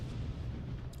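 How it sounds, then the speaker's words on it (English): Loud, continuous low rumbling boom from a vehicle blowing up in the battle royale game PUBG, heavy and close, filling the whole moment with a faint crackle near the end. "That vehicle explosion might take them out."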